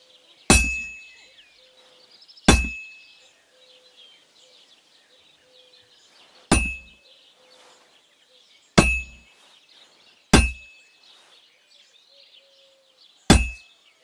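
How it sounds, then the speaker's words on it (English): A hammer strikes a sword on an anvil in Kingdom Come: Deliverance II, giving six loud, ringing metallic clangs at uneven intervals. Each strike decays quickly over a quiet background with faint chirping. "Now take the hammer and try hitting it a few times."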